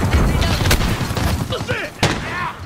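A grenade explodes in a military shooter amid gunfire, with sharp bursts and a loud blast near the end; speech and radio-style voices run underneath the action.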